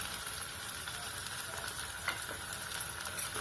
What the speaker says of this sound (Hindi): ये हम 15 मिनट से लगातार चम्मच चला रहे हैं।